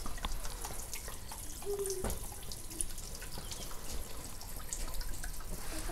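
Water pours steadily at a holy spring, a close, continuous splashing flow with scattered drips, running on its own without talk.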